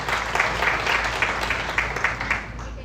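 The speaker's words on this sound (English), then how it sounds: "Please give them a big round of applause." Applause from the audience at a volunteer appreciation and kick-off meeting for a 25th anniversary, a steady crowd clapping with faint irregular peaks, continuous throughout the short stretch.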